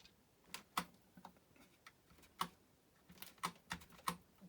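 Keys pressed on a Commodore Plus/4 computer keyboard from 1984, a stiff, faulty keyboard giving sparse, uneven clicks with pauses between them, quiet and close with no talking.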